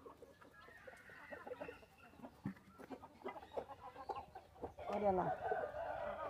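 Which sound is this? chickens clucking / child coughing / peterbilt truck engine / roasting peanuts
chickens clucking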